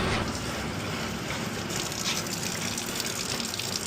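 Hot water gushing from a tap in a party barn, a loud steady rushing stream running close and continuously with no talking.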